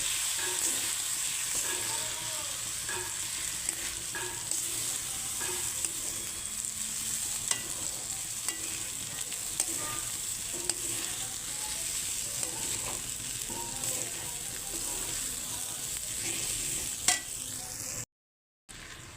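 Rice and lentils fry with ginger in a pan, a steady sizzle with irregular stirring scrapes and taps over a long stretch and a brief cut near the end. Nobody talks.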